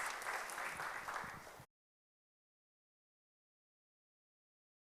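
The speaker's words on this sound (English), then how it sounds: "Give her a round of applause." A group claps together for a participant in a discussion session, even overlapping applause for about a second and a half before cutting off abruptly into silence.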